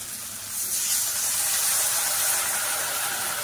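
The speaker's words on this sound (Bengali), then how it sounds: "সিদ্ধ হওয়ার জন্যে সামান্য একটুখানি জল দেবো।" Water poured into a hot pan of dry lote shutki with kochur loti, bursting into a steady, loud hiss of steam and sizzle that holds for a few seconds.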